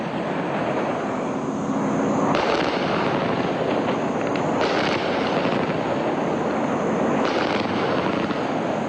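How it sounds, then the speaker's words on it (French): French military helicopters fire on the approaches to the 43e BIMA base in Côte d'Ivoire: a loud, continuous rotor and engine roar runs throughout, broken by clusters of sharp reports, with no speech. "Les hélicoptères français tirent à nouveau pour couper l'accès à la base du 43e BIMA."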